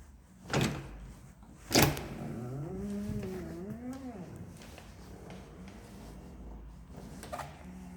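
A door opens with two sharp knocking clunks early on, followed by a person talking over quieter rustling and a faint later thump.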